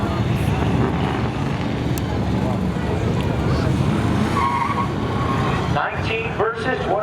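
Camaro drag cars launching at Seekonk Speedway during a spectator drag event, a loud sustained engine roar with a brief tire squeal near the end, with an announcer talking over it.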